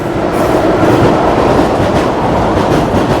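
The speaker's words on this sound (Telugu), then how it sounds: "ఇటువైపు నుంచి ట్రైన్ను వెళ్ళడం రావడం చూస్తున్నాం" A train rolls past at Dusi railway station, loud and close, with a continuous heavy rumble and rhythmic clattering of wheels on the rails throughout.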